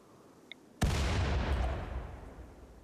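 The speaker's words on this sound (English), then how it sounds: "I wanna throw these frags here and blow out that wall." Frag grenades blowing out a wall in the video game RimWorld, heard as one sudden loud blast after a short quiet spell, followed by a long, slowly fading rumble with no talking.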